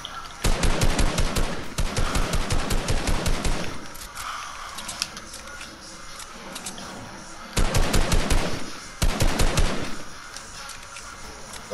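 Fortnite gunfire, loud rapid automatic bursts in several distinct strings separated by quieter gaps, sharp and close, with no talk over it.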